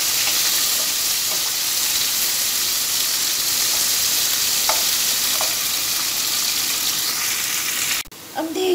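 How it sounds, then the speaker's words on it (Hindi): Three medium onions fry in a pan for bitter gourd curry, a steady close sizzle holding for most of the stretch with a few faint clicks of stirring, cutting off abruptly near the end. "तीन मीडियम प्याज ली थी, ये डालेंगे। और इनको गोल्डन ब्राउन करेंगे।"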